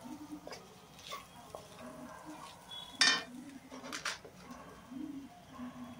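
Prawns fry in a pan with chili powder as a utensil stirs them, giving faint scraping and clinking against the pan, one sharper metallic clank, and a quiet background murmur.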